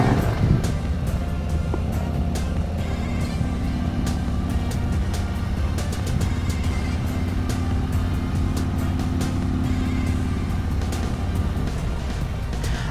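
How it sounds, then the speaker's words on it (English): 2019 Harley-Davidson Road Glide CVO on the move, a steady, dense engine and wind roar with road noise and no letup, heard from the rider's position. "I'm riding a 2019 Road Glide CVO."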